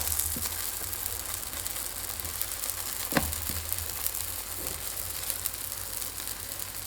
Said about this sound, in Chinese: 盖上盖子继续烙